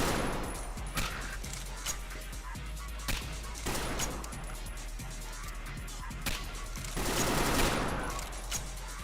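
Repeated gunfire from a weapon in the cyberpunk immersive-sim game Peripeteia, loud sharp shots in irregular bursts with rapid volleys toward the end, carried over a constant low hum.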